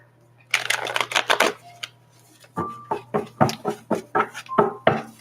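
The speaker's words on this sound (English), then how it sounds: "Let me keep shuffling a couple more times." Cards are riffled and shuffled in quick clicking bursts, a brief flurry, a pause, then a longer run of rapid snapping riffles close by.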